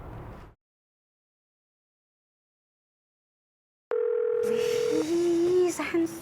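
A telephone ringback tone sounds while a call is placed: one steady tone pulse, then a voice speaking after it. A short burst of sound comes before a stretch of silence.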